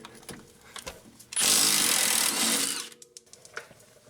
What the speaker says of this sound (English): I'm going to hold the bolt head on one side with a wrench, and then we'll hit this with the impact